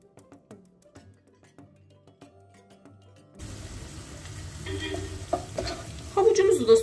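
After a near-silent opening with faint clicks, chopped onion and grated carrot hit a hot soup pot and are stirred, giving a steady, close sizzle with scraping strokes that grows louder toward the end.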